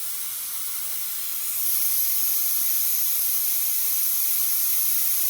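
Propane hisses steadily from a larger tank into a 1 lb tank through a refill kit. The broad airy hiss swells a little louder after a second and then holds even, with no talk.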